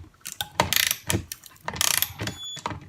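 A 16V cordless long neck ratchet pulling a bolt out, with rapid clicking ratchet bursts in several short runs, close and loud.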